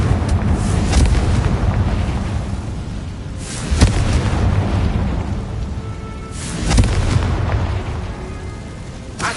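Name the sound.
explosion from Bombarda and Confringo spells in a Harry Potter video game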